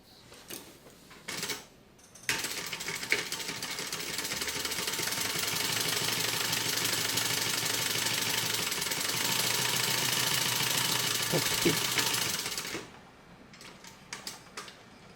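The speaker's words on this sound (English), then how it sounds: "we'll just stitch that closed" A sewing machine stitches a crossbody bag closed, giving a few short bursts and then one continuous, even mechanical whir lasting about ten seconds before it stops.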